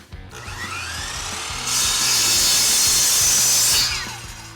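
Miter saw cutting a 2x4 at a 10-degree angle: the motor whines up with a low rhythmic hum, then a loud, bright tearing rasp as the blade bites through the wood for about two seconds before spinning down, close and alone.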